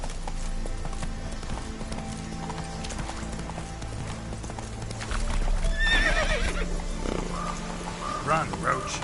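Geralt's horse Roach from The Witcher 3, rhythmic hoofbeats of a gallop with a shrill neigh midway and later a second whinny, game music and a voice speaking in the background.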